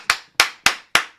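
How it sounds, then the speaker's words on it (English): Five sharp hand claps in a steady, evenly spaced rhythm, loud and close with nothing else heard. "That, ladies and gentlemen, deserves major hand clap."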